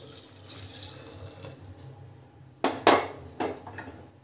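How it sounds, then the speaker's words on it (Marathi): Hot water splashes from a tap into a metal cooking pot while Kolhapuri mutton curry is being made, with a few loud bursts of pouring and clinking near the end. "आता यामध्ये मी थोडंसं गरम पाणी ॲड करते"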